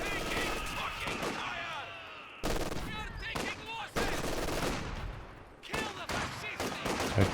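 Company of Heroes 2 battle: SVT rifle conscripts trade fire with LMG Grenadiers, dense bursts of machine-gun and rifle shots crackling continuously with sharp ricochet-like whines, cutting abruptly between loud volleys.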